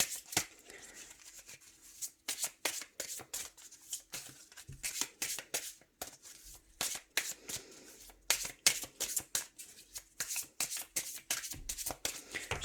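Oracle cards being shuffled close up by hand, quick bursts of riffling and sliding card noise repeating in an uneven rhythm, quiet and with no talk.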